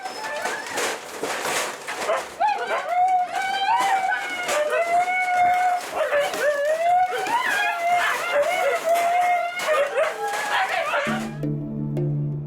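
Dogs at a neighbour's home bark and whine repeatedly, a long run of near, loud, pitched yelps and howl-like cries that rise and fall, with a brief voice at the end.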